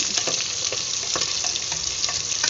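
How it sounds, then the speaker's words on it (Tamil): Steady, dense sizzling of onions frying in hot oil for a fish curry masala, a continuous crackling hiss with occasional louder pops, close up and without voices. "இதெல்லாம் கொஞ்சம் பொறிஞ்சோன்னு வெங்காயம் போடணும்"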